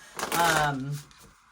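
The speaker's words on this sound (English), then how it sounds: "You guys see me shuffle the cards." Tarot cards being shuffled, a brief riffling burst near the listener with a voice talking over it.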